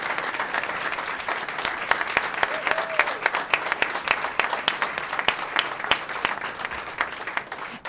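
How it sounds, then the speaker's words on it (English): Audience applause at a school board meeting, a dense sustained round of clapping from a crowd filling the room, loud and continuous from start to finish. "One more huge round of applause for Cocopah."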